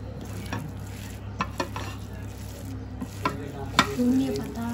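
Mashed bharta is worked by hand in a bowl, giving soft, wet squishing and stirring sounds with occasional light knocks, close and low under a faint steady background hum.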